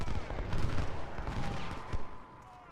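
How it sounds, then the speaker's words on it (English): Musket fire from a double volley in the Civil War strategy game Ultimate General: Civil War, a dense crackling burst of many overlapping shots that rolls on briefly and then fades. "A nice little double volley."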